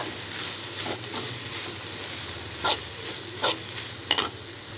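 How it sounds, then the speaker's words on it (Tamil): Dried fish being stirred with fried onions in a hot pan for a dried-fish thokku: a steady close sizzle with a few sharp spoon scrapes toward the end, no voices. "கருவாடு வந்து நல்லா வந்து கிளறி விட்டுக்கோங்க."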